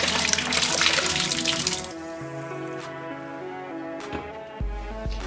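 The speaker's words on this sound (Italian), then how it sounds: "riempire il fondo del lavello con dell'acqua tiepida" Warm water running into a kitchen sink for soaking black olives, a steady rushing gush at first that settles into a quieter trickle and splashing, with a brief low thump near the end.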